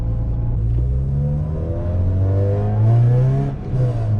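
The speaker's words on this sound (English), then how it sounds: "The Miltech there just screaming away" A small hatchback with a loud Milltek exhaust accelerating hard, the engine note rising steadily through the revs in a continuous loud, droning roar heard from inside the car, with no talking.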